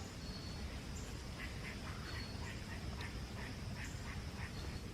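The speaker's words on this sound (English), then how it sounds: "There's a squirrel making weird noises up in that tree." A squirrel calls from up in a tree along a park hiking trail, giving a series of faint, repeated nasal duck-like quacks spaced through a steady outdoor hiss.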